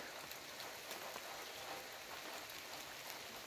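Light rain falling outdoors, a faint, steady, even patter of drops on surfaces that continues without break and without voices.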